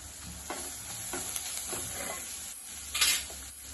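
Coriander vadi mixture being sautéed in a pan gives a soft, continuous sizzle, broken by faint scraping stirs and a brief louder hiss near the end.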